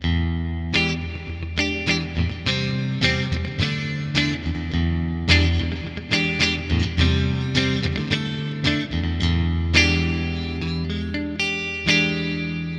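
A Fender Player Plus Stratocaster electric guitar is played on a clean setting with reverb, ringing chords and strummed notes in a loose rhythm, loud and alone with lingering echo.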